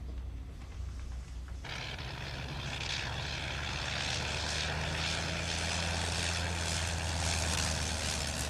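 A propeller airplane comes in to land low on fuel, its engine drone steady and close, filling the scene alone after a brief quieter start.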